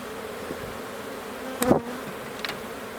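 Honey bees buzz steadily during the installation of a new package into a hive, a low continuous hum with a few louder passes from individual bees drifting close by, and no voices.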